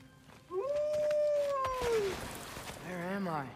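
In the Alfheim area of the video game God of War Ragnarok, a wolf dog lets out a long rising-then-falling howl, followed by softer whines, while a player talks over it.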